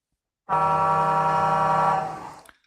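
One long, loud blast of a truck air horn, held for about two seconds before fading out, with nothing else around it.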